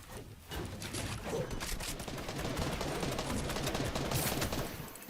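Gunfire in the Fortnite battle royale video game, dense continuous shooting under overlapping voices of players talking, steady and loud throughout.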